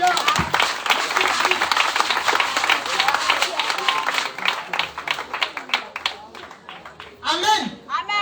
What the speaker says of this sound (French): On acclame David.